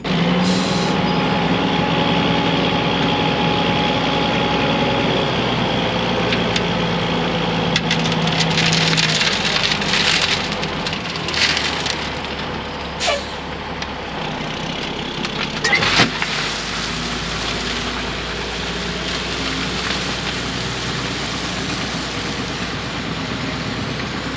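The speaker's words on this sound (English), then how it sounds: "Here comes another gravel load." A truck delivers a load of gravel: a loud, steady engine rumble runs throughout, with scraping and rattling bursts in the middle as the load shifts and pours out, and no one speaks.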